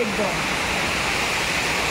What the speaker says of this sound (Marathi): कॅनलचं पाणी सोडतं तिथे आणि येतं बघ कसं एकदम भारी